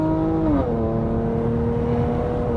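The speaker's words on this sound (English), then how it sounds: "You see how the RPMs keep going up?" Chrysler 300 engine revving during a paddle-shift downshift in manual mode, heard from the cabin: a steady drone that jumps in pitch as the gear drops, then holds at the higher revs.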